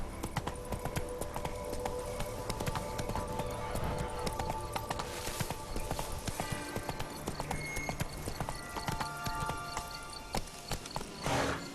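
Roach, the horse in The Witcher 3, trots with a steady clip-clop of hooves that runs through the whole stretch, set under music and ambient game sound.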